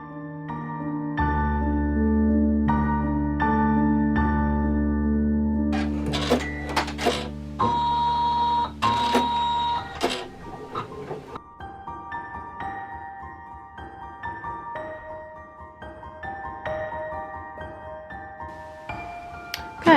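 An embroidery machine stitches shoelace holes into a fabric shoe-lacing sensory toy, a steady loud whirring hum with rapid rhythmic needle tapping and shifting tones as it moves across the design.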